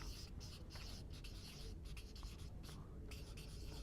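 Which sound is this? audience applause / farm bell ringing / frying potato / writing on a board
writing on a board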